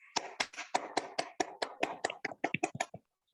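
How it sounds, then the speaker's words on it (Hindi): About a dozen sharp, separate hand claps at a health talk gathering, close and fairly loud in a quick, slightly irregular rhythm, stopping abruptly into silence. "सर के लिए मैं चाहूंगा एक बार जोरदार तालियां हो"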